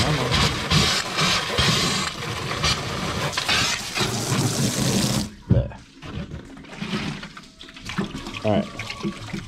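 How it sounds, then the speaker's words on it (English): Tap water gushes loudly into a milk jug at a sink for several seconds, then cuts off, followed by quieter splashing and handling noises, with a person speaking briefly. "Turn on the water."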